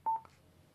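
A short, clear electronic beep sounds once, a quick single tone in otherwise quiet surroundings.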